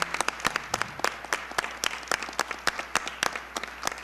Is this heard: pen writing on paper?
no